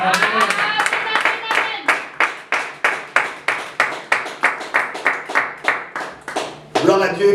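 A church congregation claps in steady unison, about twenty loud, evenly spaced beats, before the rhythm breaks into a brief burst of cheering voices at the end.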